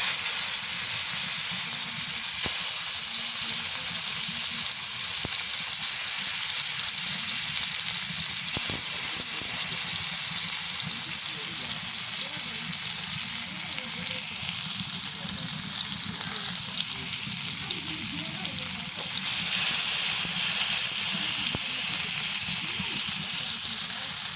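Continuous loud sizzling and hissing of silver carp fish frying in hot oil, steady throughout with occasional swells of spattering.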